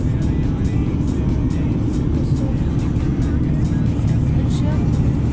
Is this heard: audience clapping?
no